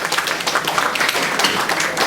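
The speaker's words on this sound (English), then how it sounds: "All of you clap hands for this wonderful child" Audience applause at a college biotechnology awareness program, steady dense clapping from many hands for a child, filling the whole moment without pause.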